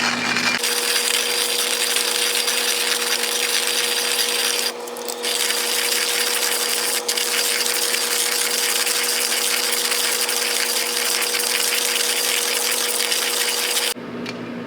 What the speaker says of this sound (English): it takes me probably 2 minutes to grind this all up